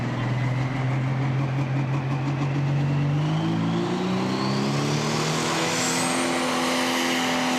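A Pro Stock pulling tractor at a tractor pull revs hard in a loud, continuous roar, its engine pitch climbing steadily as it builds power, with no talk over it.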